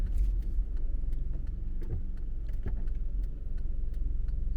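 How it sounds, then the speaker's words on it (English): Interior of a car driving through the Kensington neighborhood, with a steady low rumble of road and engine noise throughout and faint ticks and rattles above it, no talking. "I go for a car ride"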